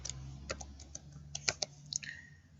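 Keys tapped on a computer keyboard while a word is entered into a spreadsheet cell, a short burst of light, irregular clicks, close and quiet with no talking.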